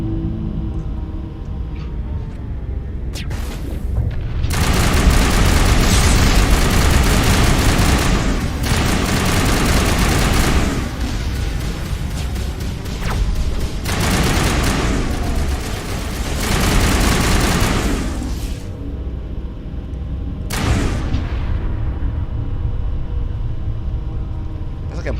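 A big gun firing in the video game Mass Effect Legendary Edition: a loud, continuous barrage of rumbling blasts and booming bursts that swells and eases over about twenty-five seconds.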